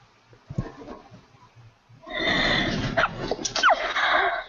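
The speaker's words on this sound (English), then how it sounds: "That was the cutest sneeze." Quiet shuffling, then a small, high-pitched sneeze bursts out, followed by a brief squeaky snort.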